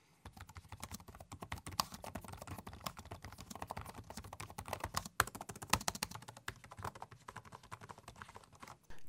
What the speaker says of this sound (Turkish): Şimdi isterseniz gelin bir ses performansına bakalım klavye nasıl yazıyor.